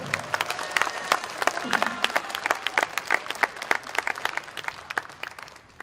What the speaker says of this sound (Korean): 박수를 제장 좀 신나게 좀 쳐주세요